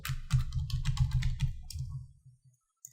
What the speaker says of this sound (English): You're gonna type your username and the password for the controller.